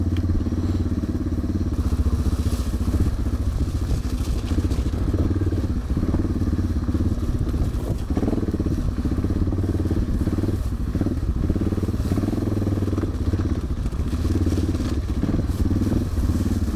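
A Suzuki motorcycle engine revs steadily close by for the whole stretch, with rattling clatter and thuds of wheels bumping over the rocky ground of a riverbed in Morocco.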